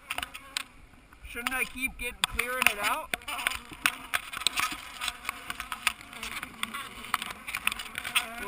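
Bees buzz around a hive during a honey harvest, a busy, wavering drone heard close by. People talk anxiously over it throughout.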